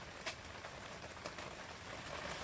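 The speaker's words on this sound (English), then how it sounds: "as you can tell, the rain's picked up" Rain picks up outdoors during seed potato preparation, a faint, even patter of drops on surfaces with occasional slightly sharper hits.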